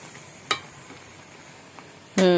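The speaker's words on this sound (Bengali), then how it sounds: "এইবার দেবো জল" Water poured into a hot pan of dried fish curry with vegetables lets out a sudden loud sizzle that holds steady near the end, after two faint clinks over quiet background.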